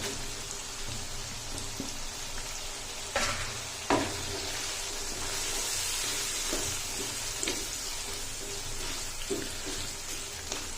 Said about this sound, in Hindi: और अब इसमें डाल देंगे हम लोग टमाटर